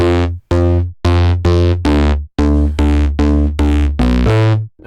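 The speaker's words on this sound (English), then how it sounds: "So this is basically a preset based on the Korg M1 organ bass, and the two basses layered together sound like this." Two layered synth basses built from a Korg M1 organ bass preset play a loud, punchy riff of about ten sustained notes in steady rhythm, with no voices.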